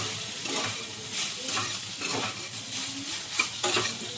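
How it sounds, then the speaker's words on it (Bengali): Marinated meat frying in hot oil with steady sizzling and crackling throughout, broken by several stirring scrapes of a utensil against the pan, all close up and with no voices. "আমি যে মাংসটা ম্যারিনেট করে রেখেছিলাম সেটা এবার দিয়ে দেবো এই তেলের মধ্যে। খুব ভালো করে ফ্রাই করবো"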